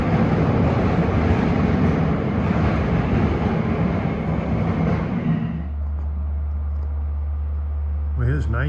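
A Long Island Rail Road commuter train on the Main Line pulls into a station, a loud steady rumble of rolling wheels and motors that shifts to a lower hum as it slows, with a faint squeal near the end.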